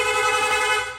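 A Sniper 155 motorcycle's rapid horn sounds close and loud as one sustained, bright, buzzing tone that tapers off slightly at the end.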